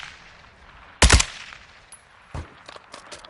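Gunshots in a video game battle: one loud close burst of shots, then a fainter shot and a few scattered distant pops against a quiet background.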